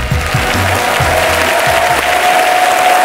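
Audience applauding at a French-language stage performance: dense, loud clapping from a crowd, steady and close throughout.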